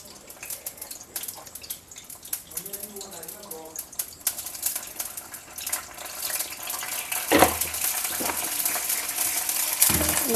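Cumin seeds frying in a hot pan for a homemade pahadi paneer dish, a crackling, popping sizzle that builds in intensity with a few sharp utensil knocks.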